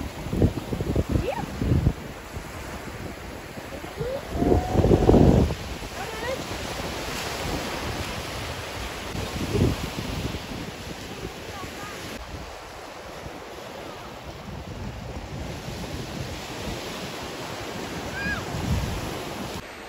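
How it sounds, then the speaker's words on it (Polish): Sea waves and surf at a Belgian seashore, with steady washing and breaking water close by, occasional louder wave crashes and heavy wind buffeting the microphone. "Jeszcze Wam pokażę na zakończenie trochę pięknego morza"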